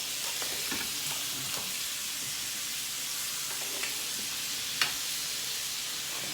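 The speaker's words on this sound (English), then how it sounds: "Then I'm gonna start basting it." A steak sizzles in a pan while being basted with garlic and rosemary, a steady close frying hiss with soft stirring and spooning clicks throughout.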